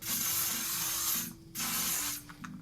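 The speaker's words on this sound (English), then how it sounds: "On top of a fixing spray?" Makeup fixing spray mists close up in two hissing bursts. The first is long and the second a little shorter, with a brief pause between them and a few faint clicks at the end.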